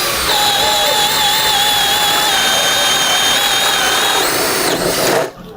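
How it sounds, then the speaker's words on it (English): Power drill boring with a self-feed bit, a loud, steady high whine held for about five seconds at close range before it slows and cuts off abruptly. "I just cradle the handle, and I let the drill do the work"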